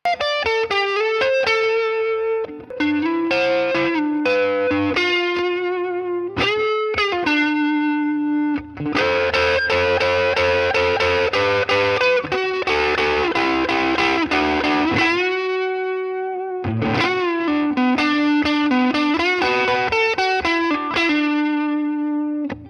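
Distorted electric guitar solo with fast runs, sustained bent notes and bursts of dense picking, loud and continuous with no talking.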